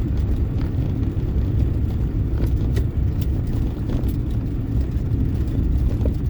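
An EV-swapped Geo Metro driving in third gear, a steady loud low road rumble and tire roar from inside the cabin with a faint whine, no engine revving, continuous throughout.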